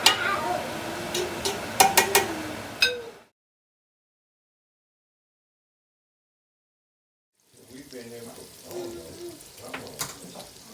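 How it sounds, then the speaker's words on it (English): Vegetables for gumbo simmer and sizzle in a pot with spoon stirring and clinks of cookware, moderately close, broken by a long stretch of silence midway before the cooking sounds resume. "So that can actually just simmer with the vegetables."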